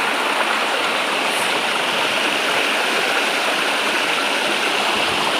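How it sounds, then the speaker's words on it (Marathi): Steady, dense rush of a waterfall, continuous and fairly loud throughout with no voices. "कसा सुंदर धबधबा आहे बघा"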